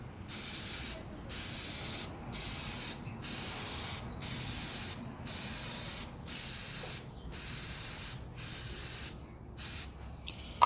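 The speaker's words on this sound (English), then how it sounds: "Test spray." Ten short hissing bursts of K&N air filter oil being sprayed, evenly spaced about a second apart, each separated by a brief pause, close and moderately loud.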